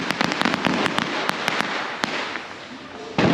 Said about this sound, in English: these guys just keep popping fireworks